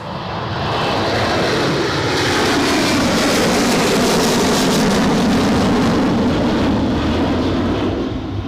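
An airliner takes off or lands at Newcastle Airport, its loud jet roar swelling in and holding strong and close, a sustained broad rumble with a whining edge, heard with no voices.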